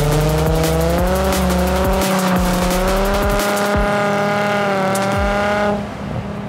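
A Nissan 350Z drifting with loud, sustained tire squeal over a high, steady engine note, sliding continuously and close up before the sound drops off near the end.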